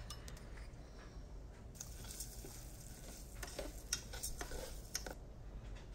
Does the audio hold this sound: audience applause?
no